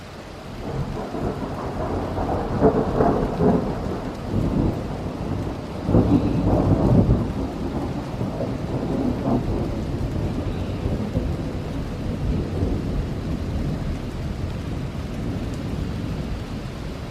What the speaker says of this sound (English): I'm going to stay out here so you can listen to this thunderstorm happening